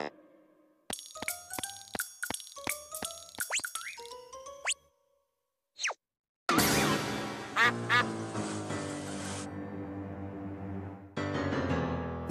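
Cartoon duck quacks from Mr. Big Duck in the animated children's series Pocoyo, a run of bright honks with boings, plops and clinks, a short pause, then a burst of playful music.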